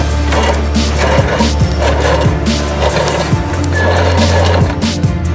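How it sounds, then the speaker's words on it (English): A winch cable is pulled out in free spool from a Lil Hercules repo lift, giving a loud, close, rhythmic clatter of repeated ratcheting clicks over a steady engine hum. "So when it's in free spool, you've got the ability to pull your cable right out."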